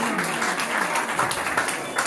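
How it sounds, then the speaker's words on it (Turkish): Applause at a surprise birthday party in Paris, a dense, steady patter of many hands clapping close by for the whole stretch, with faint voices mixed underneath. "Kocaman bir alkış alıyoruz Ayşe'nin için."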